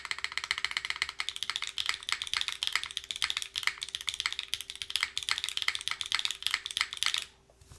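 Soft, muted keystrokes on an Agar mechanical keyboard with an aluminum case and no foam, typed in a steady, fairly fast run close up, stopping just before the end.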